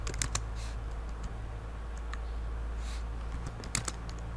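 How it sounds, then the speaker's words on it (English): Rapid clicking of fingers typing on a computer keyboard while text is entered and formatted, steady and close, with a few sharper keystrokes standing out and no talking. "I'm explaining as I'm typing"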